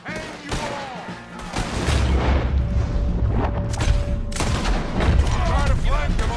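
A gunfight in Red Dead Redemption 2 brings repeated rifle and pistol shots, some booming and close, in an irregular barrage while characters shout over the shooting.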